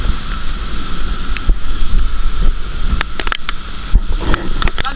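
Typhoon Tino making landfall brings a steady roar of strong wind and rain, with repeated sharp gusts and rattling bursts that stand out against the dense, continuous storm noise.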